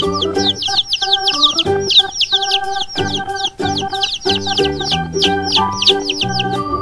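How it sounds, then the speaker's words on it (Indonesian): A baby chick chirps rapidly in high, bright peeps while lower clucking fowl sounds run beneath it, all close and busy with no speech. "Ini ada anak ayam."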